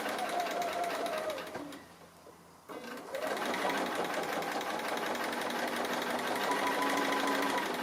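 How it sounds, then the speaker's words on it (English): A sewing machine stitches close around the edges of a tree appliqué on a quilt, running steadily and close up, briefly slowing and pausing near the middle before continuing at full speed. "now I'm just going to go around that. Stitching fairly close to those edges"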